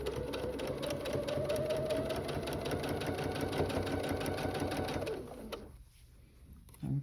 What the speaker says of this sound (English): Now we're going to sew right down to the corner.